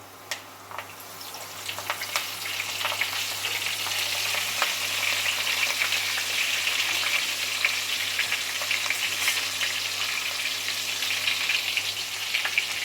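Curry leaves and sesame seeds frying in hot oil in a pan for chevda, a steady close crackling sizzle with scattered pops throughout, no talking.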